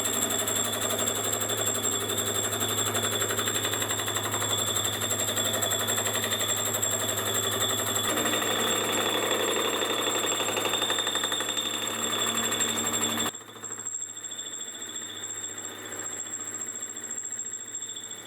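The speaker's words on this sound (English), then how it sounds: "the key to this fly cutter is the speeds and the feeds need to be perfect" A carbide fly cutter machines metal at high spindle speed and a very high feed rate, giving a loud, steady, rattling hammer-like cutting noise that continues for about thirteen seconds and then gives way to a quieter mechanical hum.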